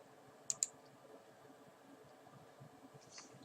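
A computer mouse clicks twice in quick succession, sharp and faint against a quiet room, followed by a softer click near the end.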